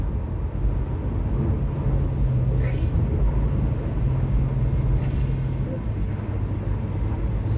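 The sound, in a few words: exhaust drone inside cabin of 2009 Acura RDX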